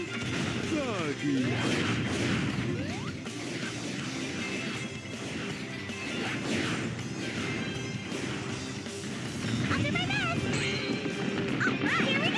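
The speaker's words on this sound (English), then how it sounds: "Doggy!" A dog in the Sonic Heroes video game yips and whimpers among crashing game effects and music, with character voices speaking over it.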